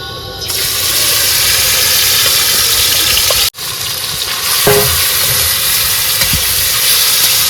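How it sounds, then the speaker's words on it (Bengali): Loud, steady sizzling of barramundi (bhetki) fish frying in hot oil, a continuous hiss with a brief break midway and occasional clinks. "তেল কিন্তু গরম হয়ে গেছে আর এখন কিন্তু মাছগুলো আগে ভেজে নেবো"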